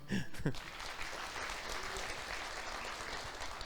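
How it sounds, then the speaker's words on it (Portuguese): A church congregation applauds during a sermon, a broad, even wash of many hands clapping in a reverberant room, heard at a distance and fairly soft, with a brief voice at the start. "Aplauda o Senhor."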